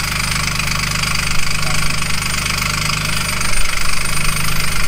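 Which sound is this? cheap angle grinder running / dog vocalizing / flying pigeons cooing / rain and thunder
cheap angle grinder running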